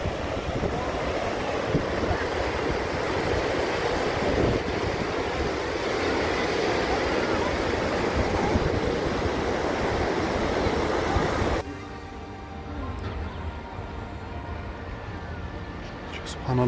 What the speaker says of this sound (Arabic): الشلالات ورا بعضها ازاي